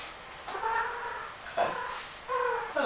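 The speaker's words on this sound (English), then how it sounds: "the cat's moaning at me now" A cat meows repeatedly indoors, three or four plaintive, moaning calls close by, each rising and falling, with short pauses between them.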